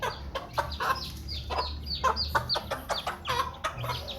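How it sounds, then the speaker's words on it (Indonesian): A hen clucking to call her chicks over to eat a cockroach, a rapid run of short, repeated clucks and chirps close by over a low background rumble. "Lalu dia mengundang anaknya untuk memakan kecoa ini guys."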